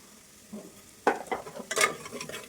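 Mustard seeds and cumin hitting hot oil, giving quick crackling sizzle bursts that start softly and flare up twice over a low pan hiss, with some stirring and no talking.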